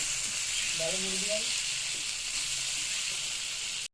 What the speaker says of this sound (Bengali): টমেটো দিয়ে দিলাম একটু নাড়াচাড়া দিয়ে দিলাম